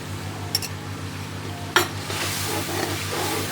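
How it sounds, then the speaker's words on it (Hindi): A spoon stirs ridge gourd curry in a pan over medium flame, with a low simmering sizzle throughout and a couple of sharp scraping clinks of the spoon against the pan. "चम्मच आपने हिलाते देना है और फ्लेम जो है वो आपने मीडियम रखनी है"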